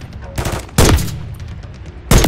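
Sniper rifle fire in the video game Call of Duty Modern Warfare 3, on a frozen mission: loud sharp shots, three broad bursts spread across a couple of seconds over a steady background rumble.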